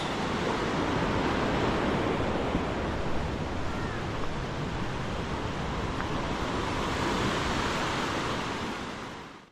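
Floodwater from a swollen river rushes past a bridge in a steady, loud, broadband roar that fills the whole span without letup, with no clear voices above it.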